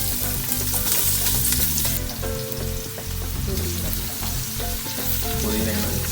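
Sliced large onions sizzle and crackle steadily in hot oil for beef biryani, a dense, continuous frying hiss with occasional stirring clatter, close up and without speech.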